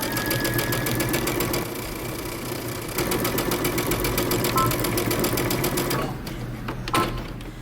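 A sewing machine stitches the shoulder seam of a shirt dress, running in a steady, loud mechanical whir with rapid needle ticking, pausing briefly and then restarting before a few softer knocks near the end.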